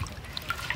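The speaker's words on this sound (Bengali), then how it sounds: "ঘষে ঘষে মাছ খুব ভালো করে ধুয়ে নেব।" Water trickling as a large freshwater fish is rubbed and washed for a curry: a brief, quiet, close dribble with a few light drips.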